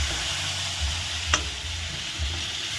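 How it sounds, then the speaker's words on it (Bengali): Homemade paneer and fried potatoes stirred in a pan, an even low sizzle with soft periodic scraping and one sharp clink of a utensil against the pan. "পনিরটা দিয়ে একটু নেড়ে দিলাম ভালো করে"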